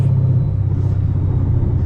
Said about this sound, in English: I've accidentally whacked limiter.